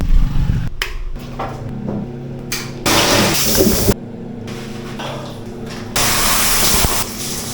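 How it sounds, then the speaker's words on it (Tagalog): Water gushes and sprays in a shower room at a beach restroom, starting and stopping in bursts of loud, close hissing with clattering knocks between. "Shower naman tayo ngayon guys."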